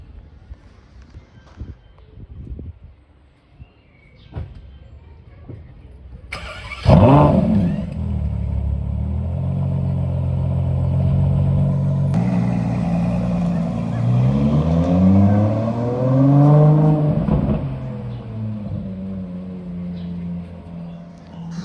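A Ferrari fitted with a Novitec exhaust revs hard outdoors, a sudden loud roar rising and falling through several throttle blips after a few quiet moments of background clatter.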